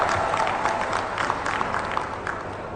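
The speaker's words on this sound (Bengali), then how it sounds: "তাদের জন্য জোরে একটা হাততালি দিয়ে আমরা তাদেরকে অভিনন্দন জানাচ্ছি" A large audience at a Chittagong University convocation claps in a dense, sustained round of applause that stays fairly even and gradually softens slightly over a few seconds.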